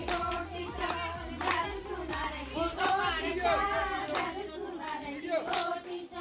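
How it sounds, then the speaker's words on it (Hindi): Rhythmic hand claps from the Garhwali Champhula folk dance, where dancers clap one hand and pass to a partner's hand, repeating steadily over singing voices and a lively outdoor crowd. "चंफुला मतलब एक हाथ पे ताली बजा के दूसरे हाथ को देना होता है।"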